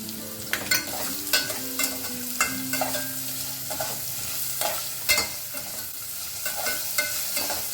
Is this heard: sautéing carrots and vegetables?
yes